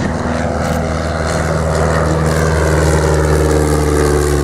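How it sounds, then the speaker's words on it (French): A Belgian Stampe biplane flies at an air show with a loud, steady propeller drone and engine hum that holds continuously throughout. "Le Stamp est un avion belge"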